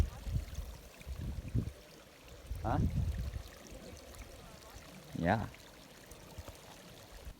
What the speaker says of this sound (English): there's this pretty cute little stream